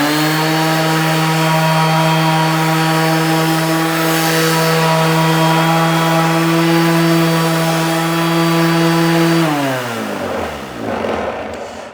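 Parkside Performance PAESP 20-Li A2 125 mm cordless random orbital sander running without dust extraction, a loud steady motor drone with a strong harmonic whine that holds for about nine seconds, then spins down and stops near the end.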